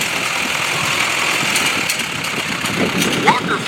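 A tractor engine idles steadily at an eighth-grade parade, a constant mid-range rumble with a faint rattle that holds at an even level throughout, while people's voices are heard over it.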